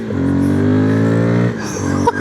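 Voge FR150 motorcycle fitted with a Tuneboss ECU accelerates hard on a test run, with a brief loud, close engine whine that climbs and then cuts off, followed by a few faint knocks.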